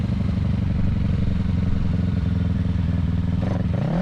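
A stock 2020 Kawasaki Ninja 650 motorcycle is throttled up during clutch-up wheelie practice. The engine drones loudly and steadily, then rises in pitch near the end.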